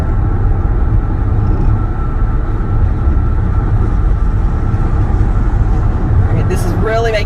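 Kia EV6 cruising on a highway beside an 18-wheeler, with continuous loud road and wind rumble throughout and people talking over the noise.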